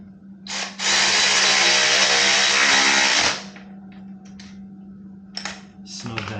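A power tool tightens the nut on an Ohlins shock spring of a 2022 Triumph Speed Twin motorcycle, giving one loud, sustained burst of about two and a half seconds, followed by quieter clicks and handling noises.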